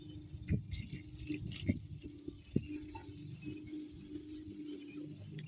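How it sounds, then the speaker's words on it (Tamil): Running water splashes and trickles unevenly while a garden is watered, with a few sharper splats and drips over a low continuous flow. "இப்போ நான் தோட்டத்தில் வந்து தண்ணி விட்டுக்கிட்டு இருக்கிறேங்க"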